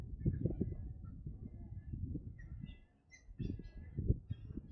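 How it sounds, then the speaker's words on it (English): Noisy wetland birds call and screech from nearby trees and bushes at a Palm Beach County park, with a steady low rumble of wind underneath and high thin chirps scattered throughout. "There's lots of bird activity."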